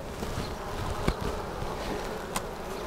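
A dense, steady hum of many honeybees buzzing close by at an open hive, with a couple of brief clicks or knocks over the drone.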